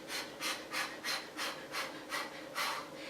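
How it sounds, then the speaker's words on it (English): Quick, fast breaths during a bodyweight workout exercise, about eight sharp rhythmic huffs in close succession, close and clear with no talking. "You want to start quick, fast little breathing."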